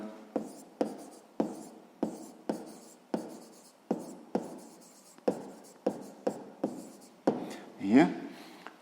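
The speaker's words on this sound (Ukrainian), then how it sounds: "Ну що ж, записуємо тоді відповідь." A pen or pencil writes the answer to a sixth-grade math exercise in short sharp strokes, about a dozen crisp scratches in an uneven rhythm, close and fairly quiet, ending in a longer scribble.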